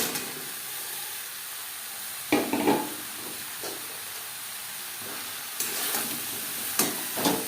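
Ridge gourd is added to spices and stirred in a hot pan, giving a steady sizzling hiss with a few scraping stirs and louder bursts of frying as the pieces are moved around.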